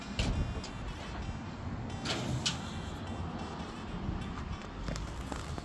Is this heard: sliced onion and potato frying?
no